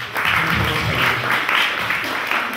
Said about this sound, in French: Merci, applaudissons pour elle